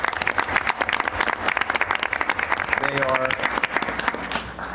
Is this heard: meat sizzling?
no